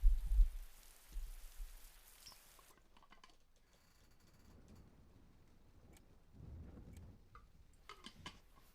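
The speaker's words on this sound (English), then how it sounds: "You can hear it raining outside." Rain falling outside in the video game Persona 4 Golden, a soft steady patter of drops that stays fairly quiet throughout, with a few brighter ticks near the start and end.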